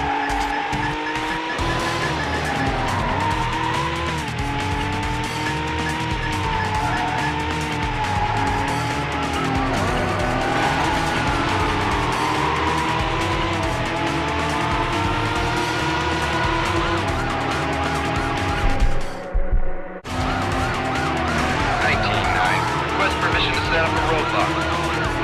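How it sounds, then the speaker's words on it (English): Silver Mercedes CLK in a high-speed police chase in Need For Speed: Hot Pursuit 2 on PS2, with a loud continuous engine roar, wailing sirens and tire squeals throughout, and radio-style voices over the action. "19 in high speed pursuit. Vehicle silver Mercedes CLK."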